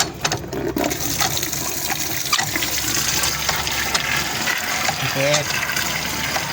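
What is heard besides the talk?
water flowing from a hand pump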